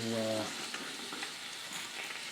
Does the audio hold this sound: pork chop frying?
yes